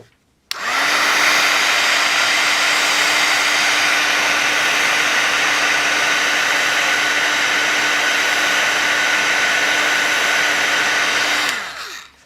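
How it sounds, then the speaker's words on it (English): A handheld heat tool blows steadily to heat set embossing powder on a papercraft project, a loud, even whirring rush of hot air. It runs for about eleven seconds, then switches off. "And I'll heat set this with my heat tool."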